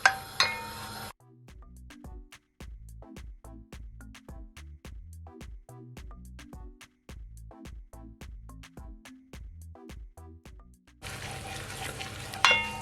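Browning sizzles in a pot for Jamaican oxtail, a loud frying hiss at the start and end, with a steady series of light, rhythmic strokes and clinks from stirring in between.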